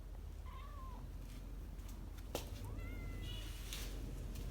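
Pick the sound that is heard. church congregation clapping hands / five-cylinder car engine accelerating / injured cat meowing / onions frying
injured cat meowing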